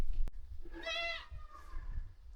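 Goats in a herd on a road near a gorge in Morocco give one clear, fairly close wavering bleat, with quieter outdoor sounds and handling noise around it.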